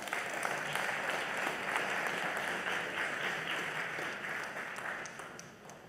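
Steady, fairly faint applause from an audience after a talk at a virtual launch event, a continuous wash of many hands clapping at an even level with no voices over it.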